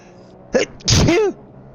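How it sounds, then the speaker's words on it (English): A single person sneezes close by, a short sharp intake followed by a loud explosive burst that trails off, with quiet background before and after. "Bit of a sneeze going on there."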